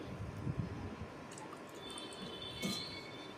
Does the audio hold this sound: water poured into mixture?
yes